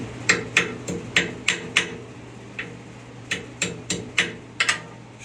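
A used cotter pin is hammered straight with a series of sharp metallic taps, about a dozen irregular strikes spaced out over several seconds, close and clear.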